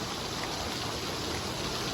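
Steady rain pours outdoors in Xaisomboun, Laos, with water streaming and splashing in a dense, unbroken hiss that holds level throughout, with no voices.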